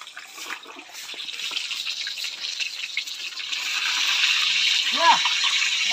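Water splashes and hisses steadily as someone washes their feet with water drawn from a well, the flow growing a little louder toward the end; people talk in the background.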